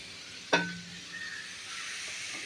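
Onions sautéing in a pan: one sharp metallic clink, then a soft, faint sizzle that holds steady in the background.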